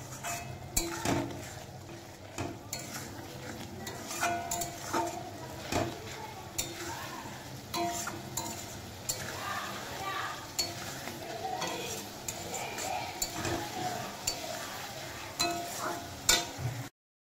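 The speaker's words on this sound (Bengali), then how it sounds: "আদা, জিরে গুঁড়ো, নুন, হলুদ সব দিয়ে দিলাম। এবার একটু কষাবো।" Fish curry masala of ginger, cumin, salt and turmeric being sautéed in a pan, with steady stirring scrapes, a low sizzle and occasional clinks of a utensil against the pan throughout, close and moderately loud.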